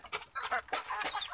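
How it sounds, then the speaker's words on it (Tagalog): A red chicken at a rural Philippine home clucks repeatedly in short, close, rhythmic bursts, with no talking. "Pero manok na pula yan."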